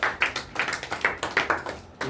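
A congregation at a night prayer service claps in a quick, steady rhythm, a run of sharp repeated hand claps from a group, fairly close and with no talking over it.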